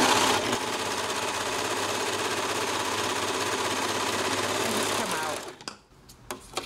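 An overlocker-style sewing machine runs fast and close, its trimming knife cutting the fabric edge while it stitches a cushion. The dense mechanical whirr carries on steadily, then stops abruptly and is followed by a few small clicks.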